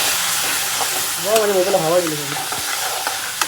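Vegetables stir-fried and tossed with soy sauce and a little vinegar in a pan for a healthy veg rice, giving a steady close sizzle with scraping stirs, while a voice briefly hums over it midway.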